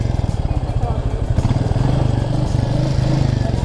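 Royal Enfield Meteor 350 motorcycle riding along with a steady mid-pitched engine thrum and rhythmic exhaust pulse throughout, fairly loud and close, with wind noise over it.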